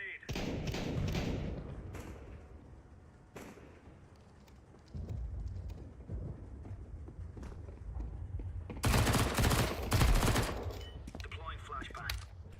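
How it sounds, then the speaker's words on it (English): Grenade thrown and detonating in Counter-Strike 2 matchmaking, heard among repeated gunfire bursts and thuds, with a loud broadband blast near the end over busy game noise and chatter. "Throwing a grenade."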